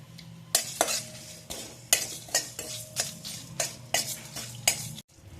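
Coriander seeds and a few dried red chillies being stirred and roasted in a dry pan, with a spoon scraping and clinking against the pan in sharp repeated strokes and a faint sizzle beneath, close and fairly quiet.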